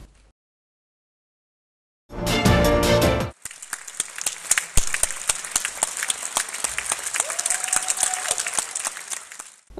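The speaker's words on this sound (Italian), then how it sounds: "trionfo per la Carmen andata in scena al Teatro Comunale di Sassari, applaudito per 5 minuti da un pubblico entusiasta" An enthusiastic audience applauds a Carmen opera performance at the Teatro Comunale di Sassari. A brief loud musical burst gives way to sustained, crisp clapping from many hands, steady and fairly close.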